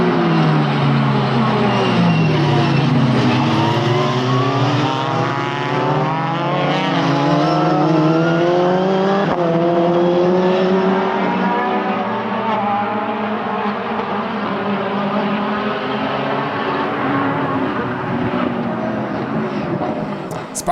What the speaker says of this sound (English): The sounds of these boss cars are just delicious.